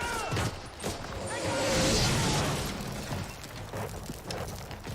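Mortar fire pounds a war-film street battle, a dense barrage of booms and crackling blasts rolling together with a heavy swell near the middle, while soldiers shout over the chaos.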